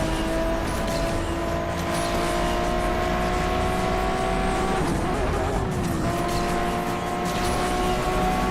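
Lamborghini Aventador engine screams steadily in an Asphalt 8 race, high revving tone holding and shifting with a brief tire-squealing drift midway, loud and close with no talk.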